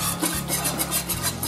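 Warm stock being stirred into a roux in a cooking pot for a French veal blanquette, giving a steady close scraping and swishing with faint clinks, no talk.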